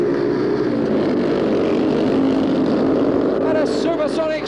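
Speedway motorcycles roar at the start of a 1977 race heat between Kings Lynn and Ipswich, a loud, dense, continuous engine drone filling the whole stretch.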